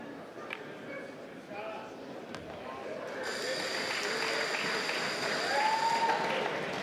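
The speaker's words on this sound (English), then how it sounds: "Muted round of applause, deserved more." Subdued applause from spectators at a professional pool match, the 2025 Mosconi Cup, rises gently behind commentators talking quietly, fairly soft and distant.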